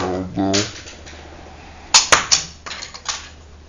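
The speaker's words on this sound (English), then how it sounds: "they give you a spare spring-loaded shooter, and you can reload your missiles and fire again" A LEGO TIE Fighter's spring-loaded shooter fires a missile with a sharp plastic snap, followed by a couple of quick clicks and light rattles. A voice is heard briefly at the start.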